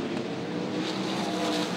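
Speedway race cars at Sydney Speedway roaring past on the track, a loud, dense engine drone held for under two seconds with no voices.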